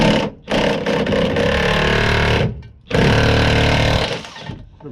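A rusted bolt being rattled loose with a power tool while a V6 engine is pulled from a Vauxhall Vectra GSI: loud, continuous hammering chatter in long bursts, broken by short pauses.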